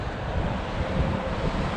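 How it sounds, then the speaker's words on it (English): Wind gusting on a warm Texas spring day, a dense low rumble buffeting the microphone steadily for under two seconds with no voices. "despite the wind"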